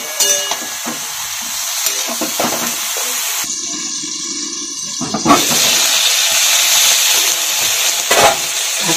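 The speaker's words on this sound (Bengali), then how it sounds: "বেগুনটা আমার ভাজাও হয়ে গেছে, সেদ্ধ হয়ে গেছে।" Eggplant coated with turmeric and salt fries in a pan, giving a loud, steady sizzle with occasional stirring clatter and a short muffled lull partway through.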